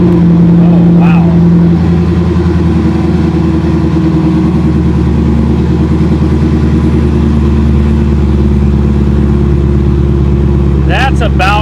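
A C7 Corvette with a very loud aftermarket exhaust holds a deep, heavy, continuous rumble close by, with brief voices at the start and end.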